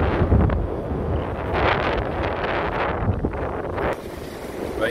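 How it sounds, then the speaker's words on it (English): Strong wind buffets the microphone outdoors in a continuous, loud rumbling roar with gusty surges. "It's windy out."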